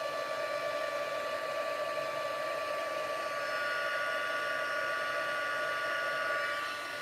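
A craft heat tool blows hot air steadily while warming up for embossing on a wedding card, a continuous close whooshing hum with a constant tone, alone with no talking.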